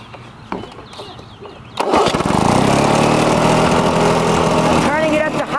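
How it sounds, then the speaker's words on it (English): A Lawn-Boy lawn mower fitted with an air vane governor is pulled over and catches after a quiet moment, its small engine bursting into a loud, steady running drone that continues close by to the end. "Now we're going to start it back up again."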